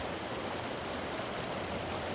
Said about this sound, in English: The water rushes below.